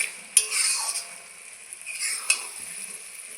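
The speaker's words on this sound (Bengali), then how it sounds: "দেখুন লাউ ভালো করে ভেজে নিয়েছি" Chopped bottle gourd sizzles in a wok while a spatula stirs it. A steady, close frying hiss runs throughout, broken by two sharp metallic clinks, with no speech.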